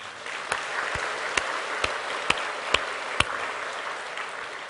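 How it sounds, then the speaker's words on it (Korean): Congregation applause during a Sunday church sermon, a steady wash of clapping with a few sharper, louder claps standing out at regular intervals. "다니엘 세 친구 멋지다고 박수 한번 해줘요"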